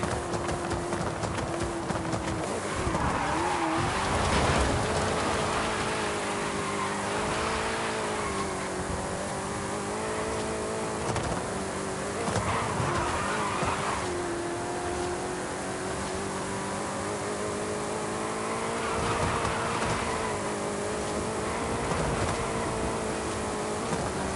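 A Ford Mustang in the Forza racing game, oversteering, its engine droning loud and steady for the whole stretch, the pitch rising and falling as the car slides through corners, with no talking.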